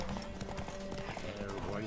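Geralt's horse gallops in The Witcher 3 during a race while running low on stamina, its quick rhythmic hoofbeats pounding close and loud under a talking voice.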